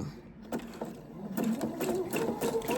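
A sewing machine runs in a steady, close mechanical whir as it stitches stretched elastic across a garment's shoulder seam, the motor humming continuously with slight shifts in speed.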